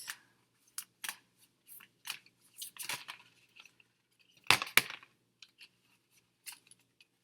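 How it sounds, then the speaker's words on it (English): A deck of tarot cards is shuffled in soft, quiet riffles and snaps, irregular short bursts scattered with one louder cluster near the middle, close and without talk. "So just going to shuffle these cards."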